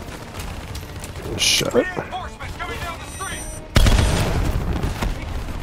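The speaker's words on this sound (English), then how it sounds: "There's too much missile fire." Missile and gunfire barrage in Call of Duty Black Ops 3, a dense roar of blasts and explosions with a sharp loud burst partway through, under a voice swearing.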